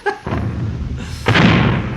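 A cannon fires with a sudden deep boom in an old Three Stooges comedy episode, one loud blast late in the clip after a lower rumble of soundtrack noise.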